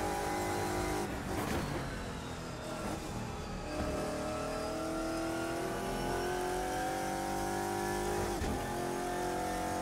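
GT1 race cars lap Donington Park in Assetto Corsa, a loud close engine roaring and revving through gear changes, pitch climbing in sweeps with another car briefly passing, no talk heard.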